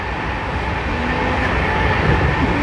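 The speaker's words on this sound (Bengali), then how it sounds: "WAP4 कन्वेंशनल लोकोमोटिव के साथ मिल गया 130 की रफ्तार।" An LHB-coached Amravati Express hauled by a WAP4 electric locomotive at 130 km/h makes a dense, continuous rolling roar with rising rumble, heard from on board without talk.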